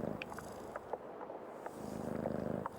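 A cat purrs steadily in the video game Creepy Tale 2, a close, continuous rhythmic rumble with faint background game ambience and no talking.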